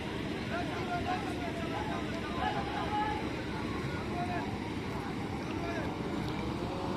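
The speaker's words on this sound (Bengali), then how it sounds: "তো ব্যাক গিয়ার দিয়ে দিল এমবি প্রিন্স সাকিন" Engine of the passenger ship MV Prince Sakin running in reverse gear, a steady low rumble mixed with wind and water noise, close and continuous, with someone talking over it.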